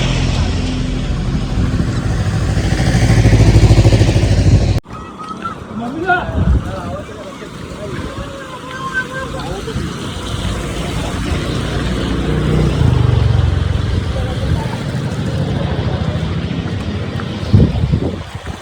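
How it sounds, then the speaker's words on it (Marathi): Vehicles drive along a rain-flooded road near Devgad Phatak, with a low, steady rumble and swishing water under heavy wind buffeting on the microphone and a voice speaking throughout. "इथे सर्व गाडीवाले वगैरे येत आहेत आणि पाणी रस्त्यावर आलं आहे"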